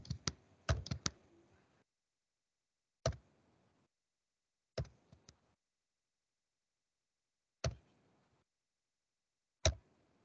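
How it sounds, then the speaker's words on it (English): Keys on a computer keyboard click nearby in a brief quick cluster, followed by single isolated keystrokes spaced a couple of seconds apart in otherwise silent surroundings. "they start typing dollar or a hash symbol"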